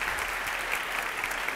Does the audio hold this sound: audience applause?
yes